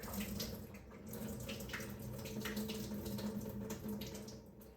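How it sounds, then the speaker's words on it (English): Water from cooked green beans and meat being poured out and drained while making homemade dog food, a steady soft splashing and rushing stream lasting several seconds, moderately quiet, with no talk. "Just dump the water out."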